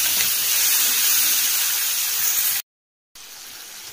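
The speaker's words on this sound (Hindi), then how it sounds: "मटर को थोड़ा फ्राई कर लेंगे।" Peas fry in a hot pan with a steady, loud, close sizzling hiss that continues unbroken, cuts out briefly near the end, then returns.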